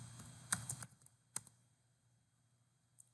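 A few quick keystrokes on a computer keyboard, a short cluster of close clicks followed by one more tap after a pause, in a quiet room.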